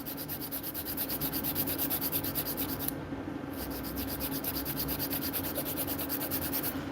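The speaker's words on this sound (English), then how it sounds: "and I file" Steady, rapid back-and-forth rasping of a file shaping long stiletto acrylic nails at home, close and continuous for the whole stretch with an even stroke rhythm and no talk.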